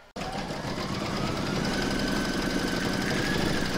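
An embroidery machine stitches a placemat in the hoop with a steady, even mechanical whir and hum that runs without pause after a brief silent start.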